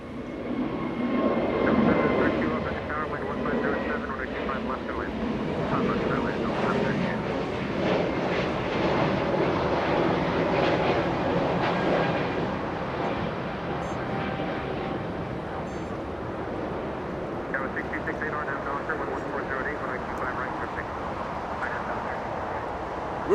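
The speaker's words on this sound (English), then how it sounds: "a yellow Spirit Airlines, a yellow A320 flying to Cleveland" A yellow Spirit Airlines Airbus A320 bound for Cleveland roars steadily at Los Angeles International Airport, its jet noise loud and continuous throughout with a broad rumbling wash and some faint background chatter.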